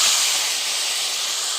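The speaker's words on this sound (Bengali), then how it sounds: "মাছের তেলের খোলাতেই আমি টমেটো কাঁচা লঙ্কা দিয়ে দেবো" Tomatoes and green chilies hit hot fish oil in a pan, giving a loud, broad, steady sizzle and hiss close by, alone with no talk.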